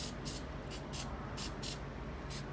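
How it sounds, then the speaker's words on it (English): Carburetor cleaner sprayed on the carburetor of an old Honda HR194 lawn mower: several short, hissing aerosol bursts in a quick irregular series, close and fairly loud over a steady low background hum. "A quick spray."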